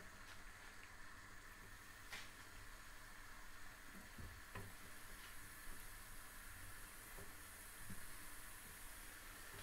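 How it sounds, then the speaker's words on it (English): Wrapped moussaka pieces fry in a pan, giving a quiet, steady sizzle and hiss with a few faint clicks and taps, no one talking. "I'm going to fry these for two or three minutes on each side"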